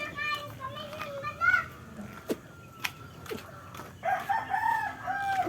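Chickens and a rooster on a chicken farm cluck and crow faintly in the background while children talk and play nearby, with a few sharp knocks mixed in.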